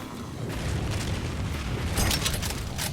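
Grenade blasts in the zombie shooter Necrovision, heavy rumbling booms that swell and persist with a louder burst near the end, without any talk.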